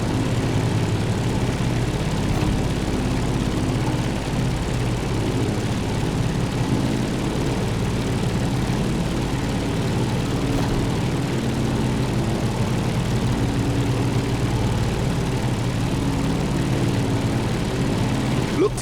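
In-game aircraft engine from The Crew Motorfest, a continuous, loud propeller-engine drone holding steady throughout as the plane climbs, with no breaks or changes in pitch.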